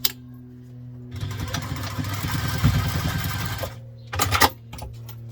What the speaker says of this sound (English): Take them to the machine and sew them with the seam allowance stated in the pattern.